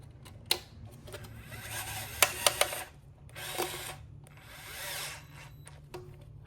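A power drill drives a long screw into a wooden battery box, with several short whirring bursts, a few sharp clicks and rubbing noises against a steady low hum, close and fairly quiet.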